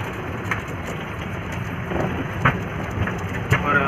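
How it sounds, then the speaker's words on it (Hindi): Heavy rain pours steadily outside a resort, a dense, even hiss with occasional louder drops and splashes close by, continuing for the whole stretch. "उस तरफ बहुत मस्त बारिश हो रही है बाहर"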